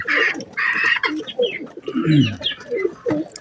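Pigeons kept by a hobbyist breeder coo and flutter close by in repeated short bursts, with fowl-like clucking calls mixed in.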